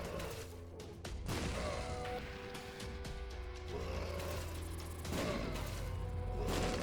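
Bomb explosions in The Binding of Isaac, repeated thumping blasts and crashes over steady game music, fairly quiet and mixed with other in-game effects.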